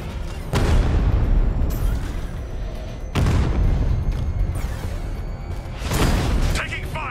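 Explosions and gunfire in Batman Arkham Knight, three heavy booming blasts spaced a few seconds apart over a continuous rumbling battle din, with faint voices.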